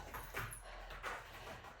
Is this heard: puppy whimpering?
yes